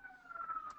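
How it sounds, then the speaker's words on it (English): A siren from an emergency vehicle passing outside, heard as a steady wailing tone at moderate distance, brief and without talk over it. "another siren here"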